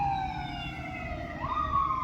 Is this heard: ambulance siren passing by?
yes